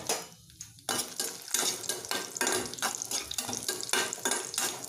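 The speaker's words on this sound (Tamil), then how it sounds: "எண்ணெய் இப்போ சூடாயிருக்கு. இப்போது நான் எடுத்து வச்சுருக்க வரமிளகாய் அதில் சேர்த்துக்கிறேன்" Dried red chillies dropped into hot oil for chutney, a busy sizzling crackle with clinks and stirring from a utensil, close and fairly faint, starting after a brief quiet moment and continuing steadily.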